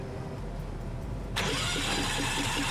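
A truck engine in the video game SnowRunner starts up partway through, jumping from a low idle rumble to a louder, steady running drone that holds to the end, with no talking.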